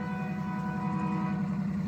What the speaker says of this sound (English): the Union Pacific is running another train down here on their main line